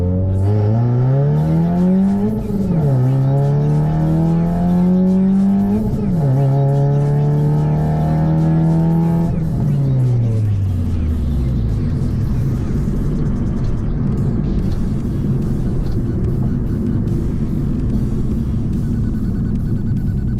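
A 2005 Scion tC fitted with a Mishimoto oil cooler accelerates, its engine note rising and dropping through a few gear shifts before settling into a steady road rumble heard from inside the car.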